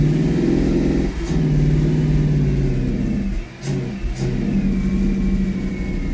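A Lexus GS400 engine running rough and rich with a crank-and-stall fault, idling loudly and steadily with a brief dip in revs midway before climbing again, close up and with no talk.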